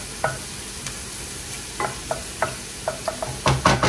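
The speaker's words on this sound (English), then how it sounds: "All right, so I'm just sauteing the onion." Onion sautéing in a pan, with a low sizzle and a series of short scraping stirs and clicks from a utensil against the pan, close and fairly quiet, growing busier toward the end; no one talks.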